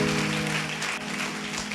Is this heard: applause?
yes